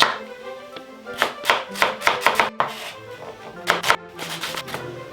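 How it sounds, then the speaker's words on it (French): A knife finely chops shallots on a cutting board in quick, crisp taps that come in irregular bursts of close, dry strikes, with no talking. "Maintenant on passe aux échalotes. Et on cisèle finement."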